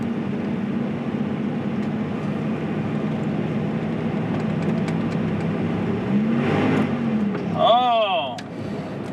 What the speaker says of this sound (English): As soon as it tries to shift to third, there, you rev it up, nothing happens.